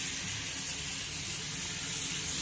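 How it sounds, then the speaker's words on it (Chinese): A steak frying in a pan gives off a loud, steady, unbroken hiss of sizzling fat, with no voices heard. "看看这个牛排，煎的在跳舞啊！"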